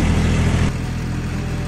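A Kubota combine harvester's engine roars loudly and continuously at close range, its tone dropping and settling partway through.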